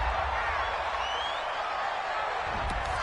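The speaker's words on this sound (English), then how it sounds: "This home crowd, they're happy with that call." Home crowd at a football game roaring and cheering steadily after a referee's call, a dense, loud wash of many voices throughout, with a few claps and whoops.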